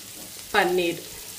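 Onions, paneer and tomato hit a hot pan on a medium flame with a sudden short sizzle that lasts about half a second, close and moderately loud, then fades back to quiet.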